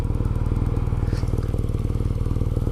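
A 2018 BMW Urban GS motorcycle with its standard exhaust idles or runs at low revs close by. It gives a deep, even, rapidly pulsing note with a steady rhythmic throb and no talk.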